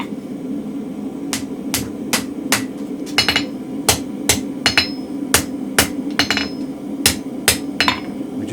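A hammer strikes a mild steel bar to bend it over into a 90-degree angle, giving sharp metallic blows in an irregular rhythm over a steady low hum.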